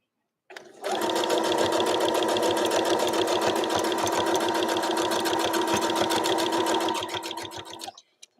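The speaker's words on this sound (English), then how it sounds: "I thought the most interesting part was the embroidery and how fast it goes on a plain machine." A plain domestic sewing machine runs a zigzag stitch for embroidery, a loud, close, fast rhythmic chatter of needle and motor that starts, holds steady for about six seconds, then winds down and stops.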